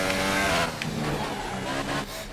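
A Formula 1 car in a video game at the Spanish Grand Prix qualifying, its engine revving hard and accelerating with a loud, steady high-pitched whine that shifts in pitch.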